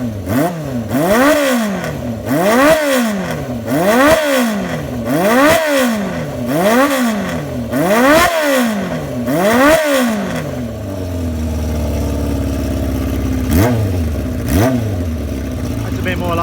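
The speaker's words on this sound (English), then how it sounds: "Just thought I'd let you hear the little 350 exhaust." Honda CB350 motorcycle with a 4-into-1 exhaust, close up, revving in a steady repeated rise-and-fall pattern of about seven blips, then settling into an idle with a couple of sharp pops.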